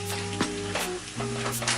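Vegan bacon frying in a small frying pan, a close crackling sizzle with a few soft scraping stirs over a brief moment.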